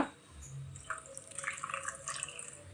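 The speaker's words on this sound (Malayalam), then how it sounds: "ഇനി നമുക്ക് ഈ ജാറ് കഴുകി ആവശ്യത്തിനുള്ള വെള്ളവും കൂടെ ചേർത്ത് ഇതൊന്ന് മിക്സാക്കി എടുക്കുക" Water from rinsing a blender jar pours into a pan of Kerala-style dried fish curry, a short splashing trickle with drips, close by and moderately loud, with no talking.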